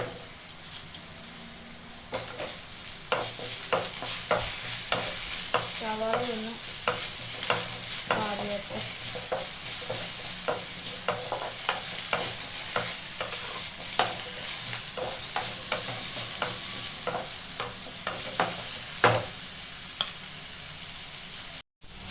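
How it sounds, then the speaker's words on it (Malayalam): Chopped onion sizzling and frying in a pan with mustard seeds, stirred steadily for over twenty seconds in a brinjal dish, with a continuous hiss under repeated close spoon scrapes and no voices. "കടുക് ഒന്ന് വാടി വന്നു ഇട്ടത് നമുക്ക് അതിലോട്ട് മുറിച്ച് സവാള ഇടാം"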